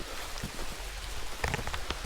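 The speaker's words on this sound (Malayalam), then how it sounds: "മഴ ഒരു രക്ഷയില്ലല്ലേ." Heavy rain falling on a hill trail walk, a steady dense hiss with scattered closer drips and patters, strongest toward the end.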